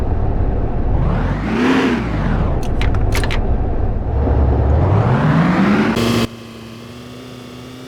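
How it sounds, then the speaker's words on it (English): Car engine in the video game DayZ cranking to life, then revving up and down in rising and falling sweeps with a few sharp clicks, before dropping abruptly to a lower steady idle. "Engine on."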